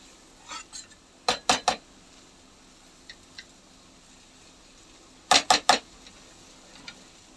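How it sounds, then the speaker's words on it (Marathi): Masala for matki (moth bean) rassa being sautéed and stirred in a pan: bursts of quick metallic clinks as the spoon strikes the pan, in twos and threes, separated by quiet pauses. "2 मिनिटं व्यवस्थित परतून घ्यायचंय. सगळा मसाला एकजीव झाली पाहिजे ती."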